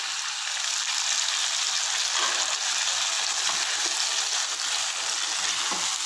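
Ground spice paste hits a hot pan of Karnataka-style spicy pulao with turmeric, giving a steady, close, broadband sizzle and frying hiss that holds evenly throughout with no talking.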